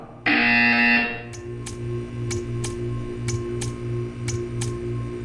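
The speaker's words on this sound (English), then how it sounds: "You will hear a buzzer." A loud electronic buzzer in a Portal video game sounds for about a second, followed by a steady ticking over a low humming background.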